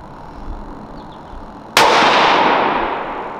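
A single sharp rifle shot from a Bergara B14 at PRS match practice cracks suddenly and loudly after a quiet stretch, followed by a long, fading echo rolling across open ground.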